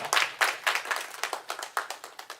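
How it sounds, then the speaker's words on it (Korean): A church congregation claps in a Sunday service, a fairly close, slightly uneven rhythmic clapping in bursts that rise and fade, with no talk over it. "우리 하나님께 큰 영광의 박수 다시 한번 올려드리겠습니다"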